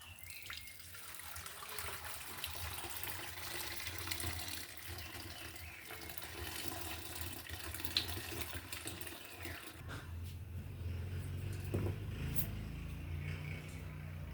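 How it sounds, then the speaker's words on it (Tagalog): Second coconut milk pours into a pot of fried galunggong with lemongrass, onion and ginger for sinantol, a steady liquid splashing and trickling that grows fuller near the end, with no talk. "Buhusan natin yung pangalawang gata."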